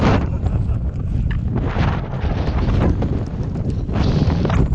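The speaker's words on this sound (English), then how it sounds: "It's windy," Strong, gusty north wind on a wet, cold day hiking the Cumbria Way buffets the microphone loudly and close, roaring in uneven surges with no voices.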